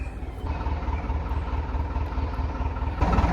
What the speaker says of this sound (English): I think we can turn off the engine